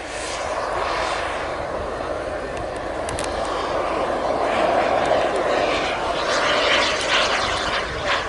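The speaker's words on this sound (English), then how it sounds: "Sorry, I was just slightly distracted by James's landing there" A model aircraft lands during an outdoor air show, its engine a steady droning buzz that rises and falls at moderate distance. Faint crowd and wind noise sit underneath.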